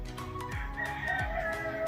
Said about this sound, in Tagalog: Ayan po ang sampukan natin ng mga manok.